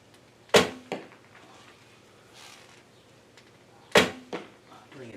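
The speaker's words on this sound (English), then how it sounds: "we're shooting a 550 grain arrow out of a 40-pound A&H" Two shots of a 550 grain arrow from a 40-pound yellow Wing Thunderbird bow on an Anthony Forfair string, each a sharp loud twang and thwack followed by a quick impact a moment later, close and clear.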